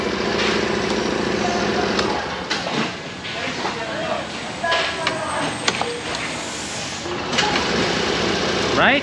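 A Suzuki Burgman Street EX scooter with an SEP Eco Performance Alpha engine starts silently and settles into a quiet idle, a low steady hum under close outdoor background noise, with a few sharp clicks scattered throughout.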